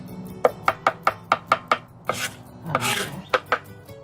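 A knife slices red onion into thin half moons on a board for a tuna and chickpea salad: about a dozen close, crisp chops in quick even runs, with a brief pause and scraping partway through. Nobody speaks.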